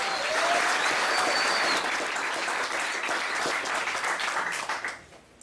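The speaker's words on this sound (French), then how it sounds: "dans un tonnerre d'applaudissements, je vais commencer par vous présenter Simon" Warm applause from the audience at a book launch fills the room at a steady level, then fades out over the last second.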